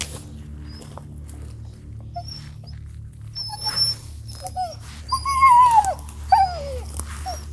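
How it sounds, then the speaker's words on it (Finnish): A young hunting dog works a bear track in the woods, giving a few short whimpers and whines near the end over steady low background rumble; no talk. "vaikka tää Lellu on nuori koira, niin jos se jatkaa tämmöstä mallia, niin tullaan kyllä idioottivarma koira tähän karhun pyyntiin"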